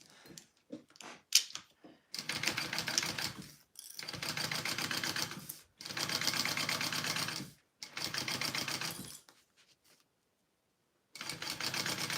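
Sewing machine stitching together pieces of a Zynah garment from Kaur Threads, running in four steady bursts of rapid mechanical stitching separated by short pauses, preceded by a few faint clicks and handling sounds.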